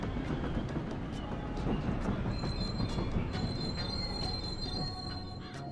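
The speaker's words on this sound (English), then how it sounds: "This train will soon make a brief scheduled stop at Riverside Station." A train runs in the video game Paper Mario: The Thousand-Year Door, a steady rumbling roll of rail noise with high squealing wheel tones and faint rhythmic clicks, continuous and fairly loud without talk.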